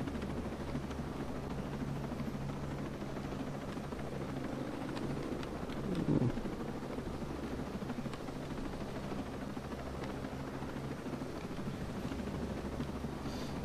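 A helicopter in the video game Ghost Recon Breakpoint gives a continuous, steady rotor and engine drone that stays close and even throughout. A brief louder thump comes midway.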